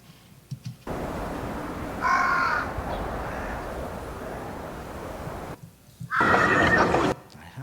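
Bird calls layered into sound-editing background ambience, with a crow-like caw and a horse-like whinny rising over a steady outdoor bed, then a louder burst near the end before it drops away.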